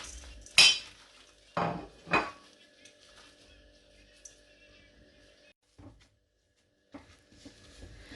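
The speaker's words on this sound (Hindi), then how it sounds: "क्यूमन सीड और हरा धनिया ऐड करके अच्छी तरह मिक्स कर दूंगी।" Mashed potato mixture for aloo tikki, with cumin seed and green coriander, is mixed by hand in a bowl: a few sharp utensil clanks, then quieter faint handling sounds with pauses of near silence.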